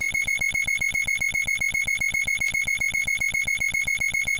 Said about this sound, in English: listen through that horrible chiming heart sound